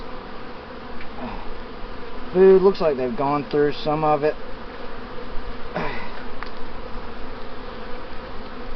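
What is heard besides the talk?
honey bees buzzing on a hive frame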